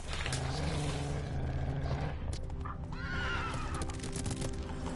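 Roach, a horse in a video game, gives a drawn-out whinny over a steady background rumble of gameplay.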